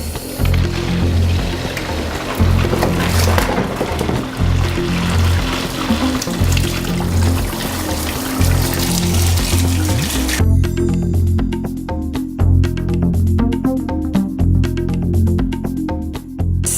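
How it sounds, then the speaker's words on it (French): Cold water rushing through a Grainfather cooling coil during home beer brewing, a loud continuous flow with a low gurgling rumble that shifts tone partway through. "on va ouvrir l'eau froide pour faire refroidir le coil"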